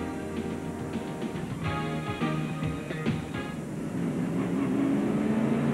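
Stock race cars of the 1997 NASCAR Slim Jim All-Pro Series circle Bristol Motor Speedway slowly under caution, a steady broadband engine drone with murmuring crowd and ambient noise, fairly even throughout with no close pass-by.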